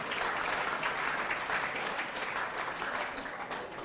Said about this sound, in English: so give yourselves a round of applause too